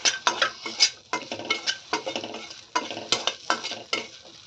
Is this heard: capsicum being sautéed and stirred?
yes